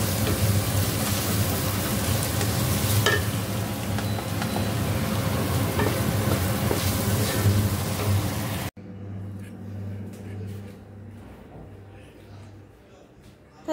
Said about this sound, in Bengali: তো চলো আমি এই চাউমিনটা করে নিই।